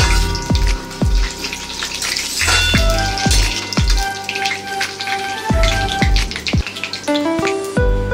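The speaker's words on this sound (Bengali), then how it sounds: "ফোড়নটা ভালো করে ভাজা হয়ে যাক।" Dried red chili and panch phoron spices crackle and sizzle in hot oil, a dense, steady frying hiss with scattered sharp pops close by, no voices.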